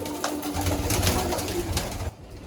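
Pigeons in a loft give soft, repeated throaty coos close by, several overlapping calls that hold steady and then drop away abruptly at the end.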